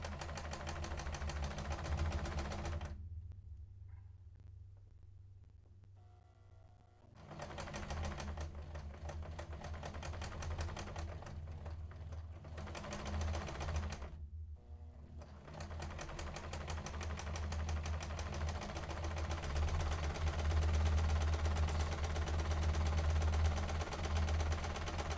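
A sewing machine stitches a fabric face mask in loud, close, rapid mechanical runs, broken by two short pauses before the motor starts up again and keeps going.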